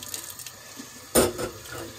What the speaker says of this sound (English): So let's just give them a good rinse.